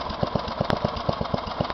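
A Westwood S1000 ride-on lawn tractor engine idling, a steady, even mid-pitched chugging with regular firing pulses about five per second, close and alone with no talking.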